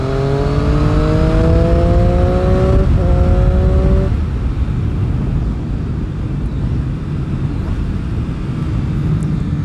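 A 2018 Triumph Street Triple R motorcycle engine revs hard up through the gears, rising in pitch with quick breaks at each smooth shift, then settling into a steady, loud cruising drone.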